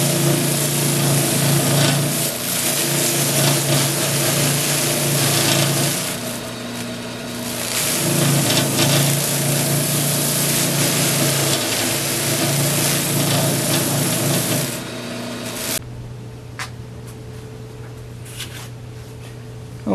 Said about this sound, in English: I did the second set just using the sander